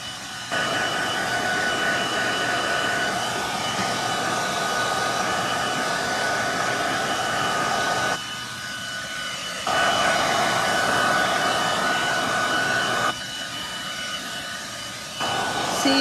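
Hair dryer blowing on freshly applied paint on a painted Asian-inspired table. The roar is steady and close for the whole span, with two short dips in pitch and loudness as the airflow shifts.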